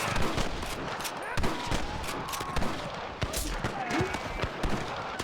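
Rapid gunfire from a Red Dead Redemption shootout with rustlers, a steady barrage of loud cracking shots and bursts packed densely across the whole stretch with no pause.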